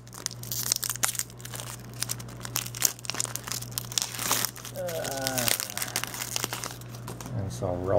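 A Pokemon TCG booster pack wrapper crinkles and tears open up close in loud, continuous rustling, with a person talking over it.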